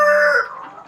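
KUB chickens in a coop: a single loud, close rooster crow with a clear harmonic call that fades into quieter clucking at the end.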